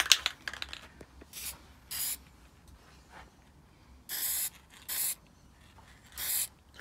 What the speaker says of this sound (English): Right, gold spray, yeah?